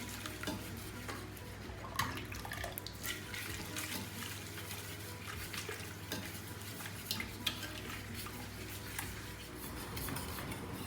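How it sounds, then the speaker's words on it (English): Broth pours into a pan of roux for Dutch bitterballen and gets stirred, a soft continuous liquid rush with scraping and sloshing stirring sounds, close and moderately quiet, with no talking. "So now I'm going to add the broth"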